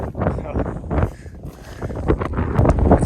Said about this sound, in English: little gust coming